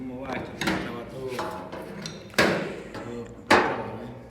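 A hammer strikes sheet metal car body panels in a body repair shop, four or five sharp ringing metallic blows at uneven intervals, with a voice talking between them.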